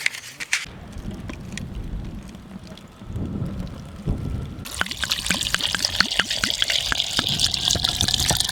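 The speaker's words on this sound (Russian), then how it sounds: "теперь водой заполняем все эти наши горшочки доверху" Water trickles and splashes steadily as it is poured into clay cooking pots filled with meat for piti, a dish for the Novruz holiday, heard close and continuous.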